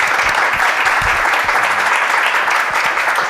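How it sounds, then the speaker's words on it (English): Audience applause for the panelists at a conference session on Africa's digital growth, a dense, loud, steady roar of many hands filling the hall, with a few scattered louder claps close by. "thanks and a big applause for the panelists here"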